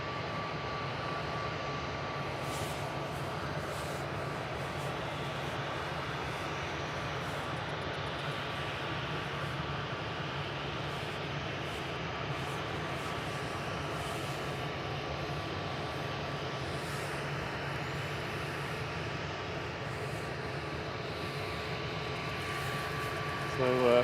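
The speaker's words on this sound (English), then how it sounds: "BA touching down there, London Heathrow. A319" A British Airways Airbus A319 touching down at an airport, a steady broadband engine roar and rush of air holding at a constant level throughout, heard from a distance with no speech.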